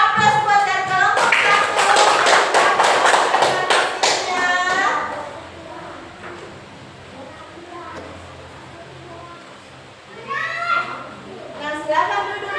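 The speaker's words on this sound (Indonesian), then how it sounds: "oke kita beri aplaus buat dari kelompok" Applause for a group of classroom presenters: a burst of clapping from many hands, with children's voices mixed in, fading after a few seconds into quieter room sounds and a teacher speaking.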